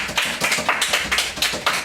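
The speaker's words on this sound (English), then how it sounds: "A round of applause for them." Audience clapping after an interview: short, close, rhythmic hand claps, about eight distinct beats in a quick, even pattern, loud and without talk.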